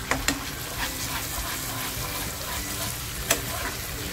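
Spice masala fries in a small amount of oil with a soft, even sizzle, while a spoon stirs and scrapes the pan with a few clinks near the start and again toward the end.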